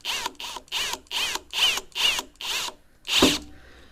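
A power drill driving fasteners while assembling a Bowflex TreadClimber whirs in seven short, evenly spaced bursts, then one final longer burst, loud and close.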